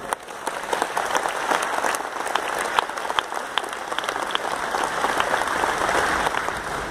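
Dense audience applause in a hall, many hands clapping together steadily and fairly close, swelling slightly as it goes on.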